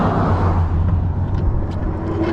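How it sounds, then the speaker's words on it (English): A truck rolls past on the road, a loud broad rumble of engine and tire noise close by, steady throughout with faint wind buffeting. "we're gonna get run over by a truck here"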